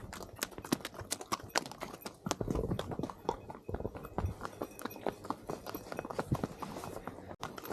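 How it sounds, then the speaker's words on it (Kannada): Horse hooves clip-clop on a riding trail in Gulmarg, a quick, uneven patter of sharp knocks from fairly close, quiet and continuing throughout. "ಅವರು ಕುದುರೆ ಎಕ್ಸ್ಪೀರಿಯನ್ಸ್ ಮಾಡ್ತಿದ್ದಾರೆ ಇದಂತೂ ಓಡತ್ತೆ ಓಯ್ ಕುದುರೆ"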